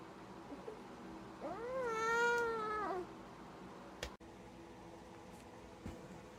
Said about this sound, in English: Starting to make some meowing sounds too.